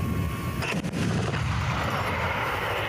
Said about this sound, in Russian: Сейчас экипажи отрабатывают стрельбу по мишеням.